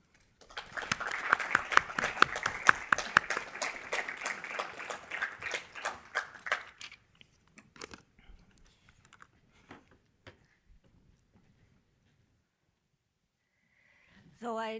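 A lecture audience applauds to welcome a speaker: dense clapping for several seconds that thins into scattered claps and fades to near silence, and a voice comes in briefly at the end.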